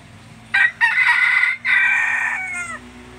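A talisay gamefowl rooster crows loud and close: one long, strained cock-a-doodle-doo broken into a couple of bursts, trailing off over a low background hum.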